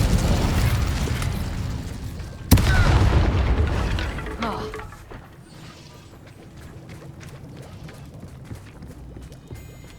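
Combat with the Incendio fire spell in Hogwarts Legacy, opening with a dense roaring rush broken by a sudden sharp boom, then fading to softer crackles and scattered ticks.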